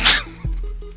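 A single sharp sneeze bursts out at the start, loud and close, followed by a brief low thump and quiet background hum.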